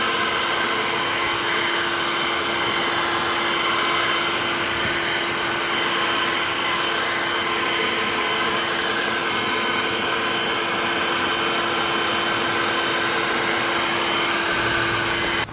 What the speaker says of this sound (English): I am going to go blow the driveway because the leaves are really starting to come down